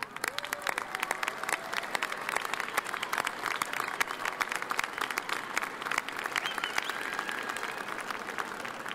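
Sustained applause from a large audience at a fall commencement ceremony, dense continuous clapping filling a big hall at an even level for several seconds without talk.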